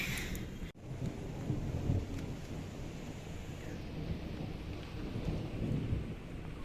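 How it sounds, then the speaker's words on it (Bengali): Rain pours steadily on a rooftop while low thunder rumbles and rolls underneath, a continuous stormy wash with no voices. "আবার মেঘ করে বৃষ্টি হচ্ছে"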